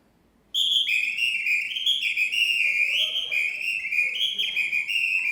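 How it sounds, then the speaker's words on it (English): A samba rhythm is played alone on a Brazilian apito whistle, with loud, shrill, continuous piercing tones that warble and jump between pitches in a lively, syncopated pattern after a brief silence. "I'm going to play you a samba just on the whistle."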